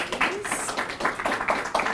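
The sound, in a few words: audience clapping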